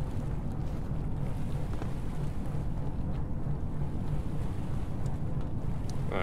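Steady low engine-room hum aboard a ship in the game Stormworks at a harbor, a constant dense rumble filling the space without pause and no voices.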